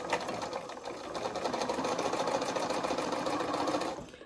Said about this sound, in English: I'm going to go ahead and sew the next row.